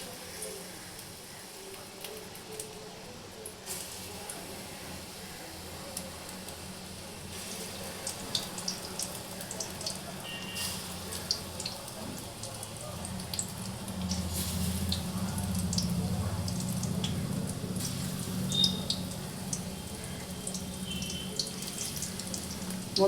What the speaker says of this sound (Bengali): তেল বসিয়ে আমি পেঁয়াজিটা ভাজবো